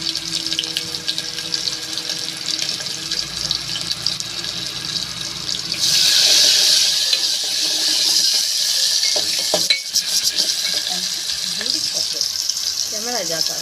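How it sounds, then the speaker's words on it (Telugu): Chopped onion goes into hot oil with mustard seeds and cumin in a pan for a southern-style brinjal dish. A few quiet clinks come first, then a sudden loud sizzle rises and keeps hissing while being stirred, and a voice can be heard. "ఆనియన్ వేసుకుంటున్నా."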